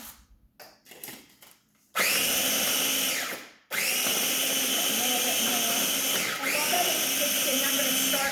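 A food processor pulses cookies with melted butter, starting with a few soft clicks and knocks and then whirring loudly in two long, steady runs separated by a brief stop.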